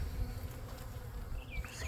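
Honey bees buzz faintly around an open hive, a soft, continuous hum with a few individual bees droning nearer in passing.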